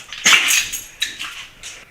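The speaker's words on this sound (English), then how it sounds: "The dog is way too interested in what we're doing." A dog gives a handful of short, sharp barks and yelps in quick uneven bursts, close and fairly loud, with quiet gaps between them.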